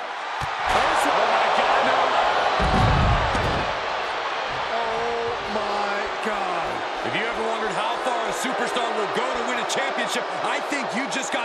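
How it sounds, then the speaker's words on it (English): A large arena crowd in the wrestling video game WWE 2K22 roars and cheers continuously during a Hell in a Cell match, mixed with thuds and impacts from the ring, while commentators talk over the noise. "The sound of this crowd is deafening, and he's asking for more."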